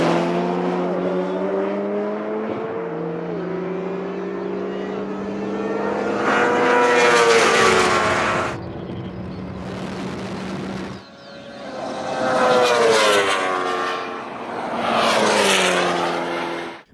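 A 2019 BMW S1000RR motorbike, a McLaren 720S and an Ariel Atom 4 drag race side by side, engines howling loud and close, rising in pitch through repeated upshifts as they accelerate hard.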